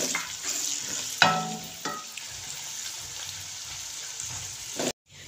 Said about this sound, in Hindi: इसी ऑयल में मैं 1 बड़ा प्याज डाल रही हूँ